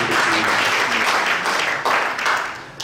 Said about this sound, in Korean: 여러분 격려 박수 한번 크게 한번